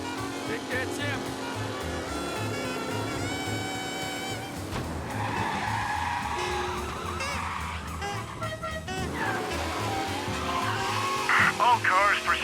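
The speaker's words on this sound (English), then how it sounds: "Officers reporting a race car driving at speed through the city." Engines roar and tires squeal as cars skid, with honks and crashes in a busy game mix from Mafia: Definitive Edition; a police radio voice briefly reports a race car speeding through the city.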